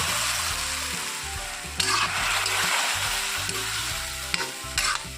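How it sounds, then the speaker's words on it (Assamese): Panch phoron spices fry in a pan for an Assamese elephant apple dish, crackling and sizzling loudly up close with stirring scrapes, sudden louder bursts and a musical tone running beneath. "পাঁচফোৰণখিনি অলপ সময় ভাজি ল'ম।"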